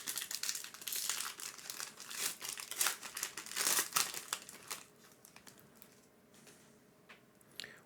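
Topps Disney Wonder 2025 trading card packs being ripped open, close crinkly foil crackling and tearing in busy bursts for a few seconds before fading to quieter rustling.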